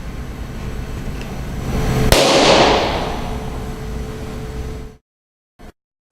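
A single balloon pops loudly in a large space, with a sharp burst followed by a long, spreading wash of reverberant echo that fades over a few seconds, then a faint short reflection after silence.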